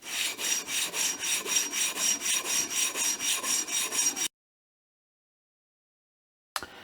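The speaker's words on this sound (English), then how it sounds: "I'm sanding on a paper." Steady rhythmic back-and-forth rasping of sanding on sandpaper laid over a granite surface plate, about four strokes a second, close and fairly loud, then abrupt silence and a brief final scrape.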